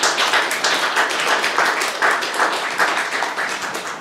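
Applause at a press conference for a new creative stage work, a steady wash of many hands clapping for several seconds at even loudness, without talk.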